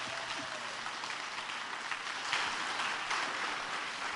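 Congregation applauding during a sermon in a Catholic church service, a continuous dense patter of clapping from many people at moderate distance, sustained for several seconds with slight swells partway through.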